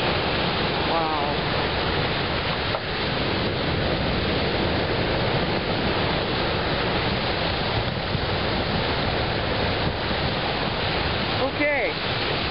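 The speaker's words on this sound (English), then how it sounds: "These waves are getting closer" Loud, steady roar of surf crashing nearby, a continuous broadband wash with a few brief bird-like chirps cutting through.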